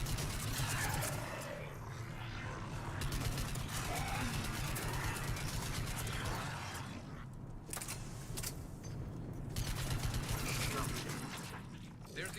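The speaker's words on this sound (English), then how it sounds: "There's the artillery." Artillery fire in Mass Effect 3 during the assault on Earth, a dense, continuous rumble of distant booms and mechanical clatter under battlefield noise, with voices talking over it throughout.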